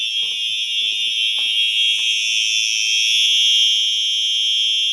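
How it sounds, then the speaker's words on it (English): A fire alarm blares continuously, a loud steady high-pitched tone filling the room from start to finish, with faint brief bumps and handling noises in the first few seconds and no talking. "this alarm is loud, but it's not that loud like the other alarms"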